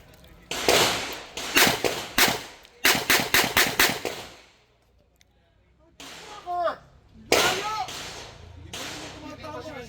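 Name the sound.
gunfire shots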